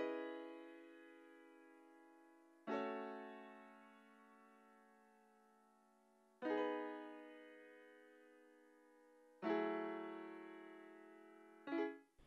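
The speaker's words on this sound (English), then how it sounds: "Then next we had this piano that just followed the same chords." Piano playing slow chords with a vintage cassette and vinyl effect, four struck chords each left to ring and decay for several seconds, soft and alone.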